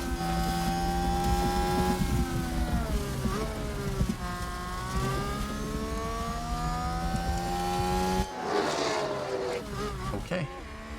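Simulated Formula 1 car from the F1 Manager 2022 racing game, its engine and gearbox giving a steady high-pitched whine with rising and falling pitch sweeps across several shifts, continuous throughout before a rougher, noisier passage near the end.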